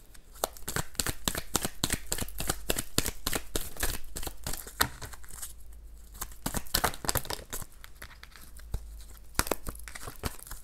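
Tarot cards shuffled by hand for a general reading, a dense run of quick crisp riffling snaps that pauses briefly midway and then resumes, close and fairly quiet, with no talking.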